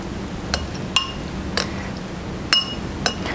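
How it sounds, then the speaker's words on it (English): A spoon clinks against a small bowl while salsa, black beans and avocado are gently mixed, giving five or six sharp, bright taps spaced irregularly over a quiet background. "to a small bowl, I'm just going to add my salsa, my black beans, and my avocado. And I'm just going to gently mix that up"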